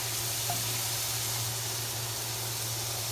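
Garlic, shallot, onions and peppers frying in a pan: a steady, even sizzle and hiss that runs the whole time at a constant level, with a low hum underneath.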